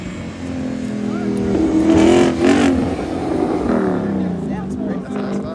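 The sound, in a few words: car revving loud exhaust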